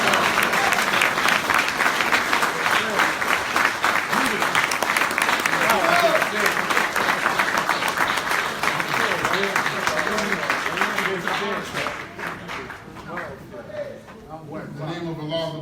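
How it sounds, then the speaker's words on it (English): A large audience claps in sustained applause for a speaker at a Saviours' Day event at a mosque. The clapping is loud and dense at first, then thins and fades toward the end as voices begin to come through. "Please receive him with a well-deserved round of applause"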